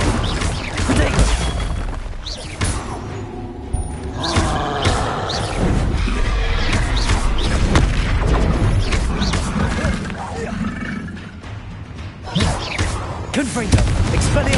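Spell-casting blasts in Hogwarts Legacy, repeated booming impacts and crackling bursts in quick succession, loud and layered over continuous combat noise, with shouted voices between blasts.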